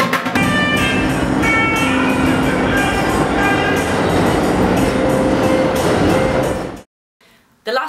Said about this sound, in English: Then I headed to the subway, which is pretty much like the London Underground